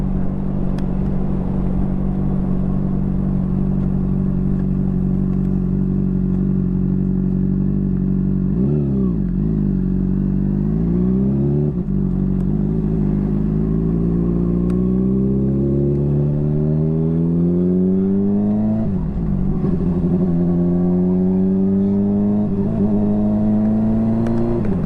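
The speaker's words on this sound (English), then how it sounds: "It's winter time and driving a motorcycle" A motorcycle ridden on a winter road in Louisville, Kentucky, its engine droning steadily and loud throughout, with clear rises and falls in pitch as the rider accelerates and shifts, and no talking.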